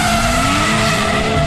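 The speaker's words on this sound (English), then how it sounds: "That is the actual sound of B.F. Goodrich tires on a closed course" BF Goodrich street tires skid and squeal loudly on a closed course, a sustained close screech with engine roar underneath.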